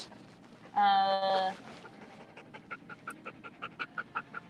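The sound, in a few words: dog panting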